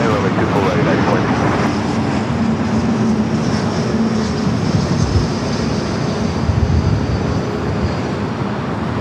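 An airliner lands on runway 24 right at LAX, a loud continuous roar of jet engines and rushing air that fills the whole stretch, with a radio voice talking over it.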